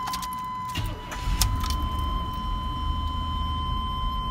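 A 1985 Chevrolet C10 pickup engine idling steadily after starting, a constant low rumble with a faint steady whine above, up close and with no voices.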